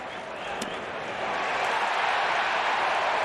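Large baseball stadium crowd of over 40,000 cheering and applauding, a broad wash of roaring noise that swells louder toward the end, heard from a distance.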